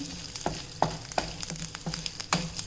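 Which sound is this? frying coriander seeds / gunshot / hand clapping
frying coriander seeds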